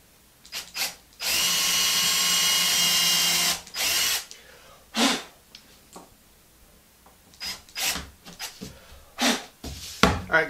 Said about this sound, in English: I drilled four pilot holes for these screws.